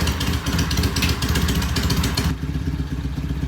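A motorcycle called the Green Goddess running on a neighborhood street during a test ride, its engine chugging close and steady with a clattering mid-pitched rumble that shifts partway through.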